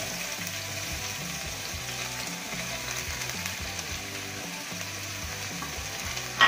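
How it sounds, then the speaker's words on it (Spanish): Chopped onion sizzles steadily in hot oil, a dense, even frying hiss that runs without a break and stays close, with no voices. "vamos a pochar la cebolla."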